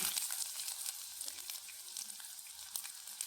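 Ginger and dals, urad dal and chana dal, hiss and sizzle in hot oil. The crackle is steady and quiet, broken by a few sharp pops. No one speaks.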